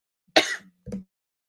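One person coughs once sharply, then clears their throat with a shorter, lower rasp, close and fairly loud, with silence around it.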